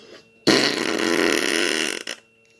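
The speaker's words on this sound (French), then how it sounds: "Je sais pas si c'est d'avoir pété, ça doit lui faire mal aux fesses." A baby's loud fart, a sudden close rasping burst sustained for over a second and ending in a short sputter, with no talk over it.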